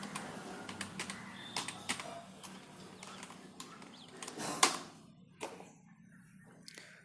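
Close computer keyboard typing, with irregular bursts of key clicks and a sharp clack or two, then a few sparse taps as it trails off, in a quiet room with no talking.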